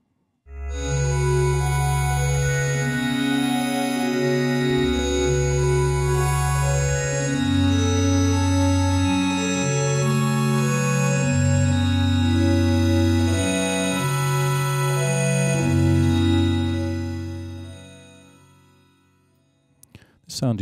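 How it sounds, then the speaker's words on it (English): A Virus TI wavetable synthesizer plays a sequence of sustained bass and chord notes, shaped by a very fast LFO into a rapid, fluttering shimmer that is loud and steady and then fades near the end. "So it creates a nice little fluttering effect."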